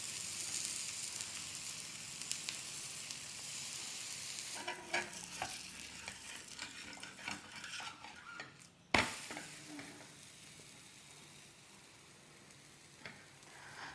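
Dhapata flatbread roasting in oil on a pan over medium-high flame, giving a soft steady sizzle with occasional light scrapes and a sharp clink partway through, fairly quiet and close.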